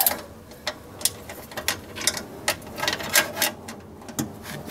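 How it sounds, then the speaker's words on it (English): A wrench loosens bolts inside a second-generation Toyota Prius during rear interior removal, producing soft, irregular mechanical clicks and ticks over a dull background rustle. "you just use a wrench, loosen them"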